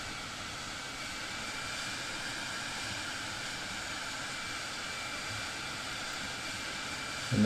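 Cirrus Vision Jet engine in Microsoft Flight Simulator 2020, a steady, moderately loud jet whine and hum as power is reduced after takeoff, with no other sounds over it.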